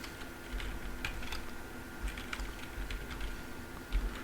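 A login being typed on a computer keyboard: a steady patter of soft key clicks at close range over a faint background hum, with no talking.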